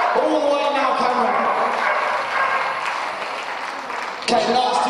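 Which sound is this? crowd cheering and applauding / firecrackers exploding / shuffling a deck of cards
crowd cheering and applauding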